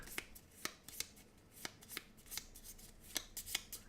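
A deck of game cards is shuffled by hand, close up. Repeated crisp riffles and snaps come in quick irregular bursts over a few seconds, with no voices.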